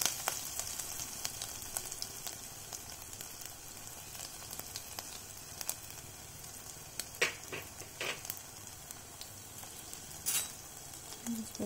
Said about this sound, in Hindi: तेल गरम होने के बाद हम सबसे पहले उसमें डालेंगे हमारा जीरा.